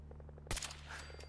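A single gunshot burst from combat in Fallout 4, a brief loud crack followed by a short decaying echo over a steady low ambient hum, with no voices.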